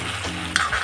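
Meat stirred and fried in a wok at home, a steady sizzle with a sharper scrape or clatter of the spatula near the end of the short stretch.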